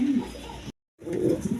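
A pair of Maharana pigeons coos in a low, steady murmur, broken by a short moment of silence before the soft cooing resumes, with faint traces of a voice nearby.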